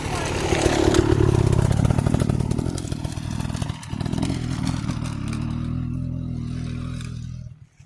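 Dirt bikes riding along a dirt bike trail over old placer gold mine ground, engines loud and close, revving and rising in pitch, then fading as they pass and trail away; no talk.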